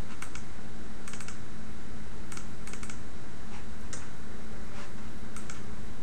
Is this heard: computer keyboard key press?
yes